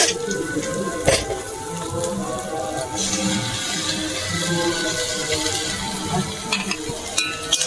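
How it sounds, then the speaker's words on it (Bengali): Ginger-garlic paste is stirred into fried onions in a pan, a continuous close sizzle with spatula scrapes and knocks against the pan, moderately loud, with a voice faintly underneath. "পরিমাণ মতো আদা রসুন বাটা দিয়ে দিয়েছি। একটু নেড়ে চেড়ে নেবো।"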